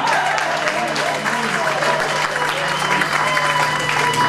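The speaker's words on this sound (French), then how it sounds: "nous accueillons l'homme de Dieu avec les acclamations à la gloire de notre Seigneur" A church congregation at a New Year's Eve service in Zürich applauds and cheers continuously, dense sustained clapping mixed with voices and acclamations throughout.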